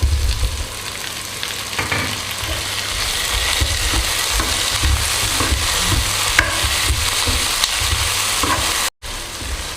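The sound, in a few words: vegetables and tomato frying in pan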